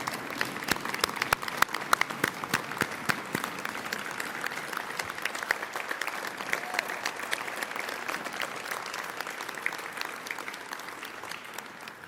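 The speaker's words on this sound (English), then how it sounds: "Let's give our 2020 Hall of Fame class one more round of applause." A crowd applauds the 2020 class at a USA Softball Hall of Fame induction ceremony, steady sustained clapping with a few sharper claps standing out near the start, continuing evenly throughout.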